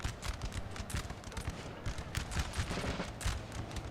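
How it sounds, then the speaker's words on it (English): Volleys of musket fire crackle in the Napoleon Total War battle with Bavaria, rapid overlapping shots popping continuously, dense and fairly near, with no talk over them. "we're shooting our own men by firing on towards the squares like that"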